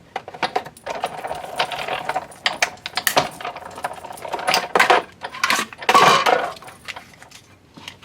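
Hand-cranked die-cutting machine rolling a framelit die through for card making, close irregular clicking, cracking and grinding mechanical bursts that swell and fade over several seconds, no talk.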